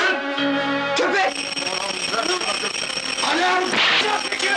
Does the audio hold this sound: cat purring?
no